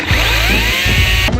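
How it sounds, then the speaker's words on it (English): A Makita 18V LXT 10-inch cordless mini chainsaw runs with a loud, steady electric whine and faint chain rattle, holding one even pitch for over a second before cutting off abruptly. No one talks. "pulling the trigger will turn it on once you have the safety handle locked back, just like any other chainsaw."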